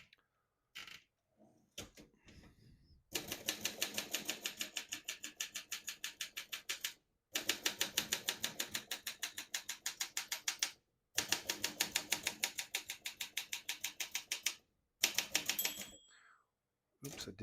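Rapid bursts of sharp mechanical keystrokes from a 1963 Olympia SM7 manual portable typewriter, in several runs separated by brief pauses, close and clear.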